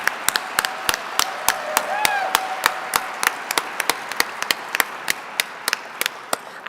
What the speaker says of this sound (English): let's have a round of applause for Jonathan Capehart